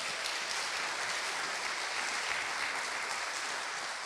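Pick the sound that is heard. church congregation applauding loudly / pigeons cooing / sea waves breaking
church congregation applauding loudly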